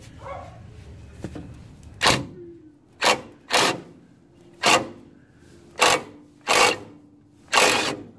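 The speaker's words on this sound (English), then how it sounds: "Got the impact wrench in here." An impact wrench with a 9/16 socket removes a wheel cylinder from a 1959 Cadillac DeVille, firing seven short, loud, rattling bursts separated by brief pauses.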